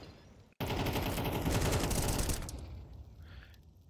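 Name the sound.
grenades thrown in Counter-Strike video game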